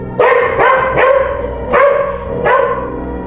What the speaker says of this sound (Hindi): स्टेशन के पीछे से कुत्तों के भौंकने की आवाज गूंजी।